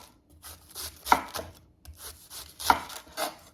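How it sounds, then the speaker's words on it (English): A knife chops through cabbage on a board in two quick bursts of crisp, crunchy strokes separated by a short pause, close and moderately loud. "I'm gonna go ahead and cut up my vegetables. I'm gonna start with my cabbage."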